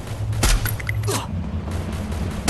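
Gunfire rattles out in the Free Fire battle game, with a loud burst of rapid shots up front followed by further scattered reports over a constant droning background.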